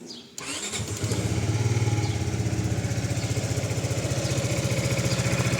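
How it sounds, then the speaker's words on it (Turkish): A Zontes 250TE motorcycle engine starts up and settles into a steady, throbbing idle, loud and close, with a regular low pulsing rhythm. "Motor sesi gayet güzel bir tok, tok bir sesi var."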